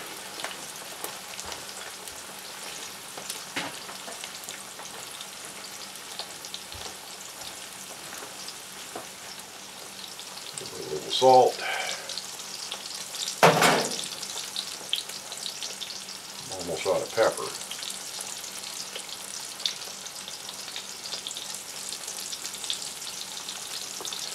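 Potatoes fry in a cast iron pan with a soft, steady sizzle, joined by a few louder scrapes as they are pushed around the bottom, close and without voices.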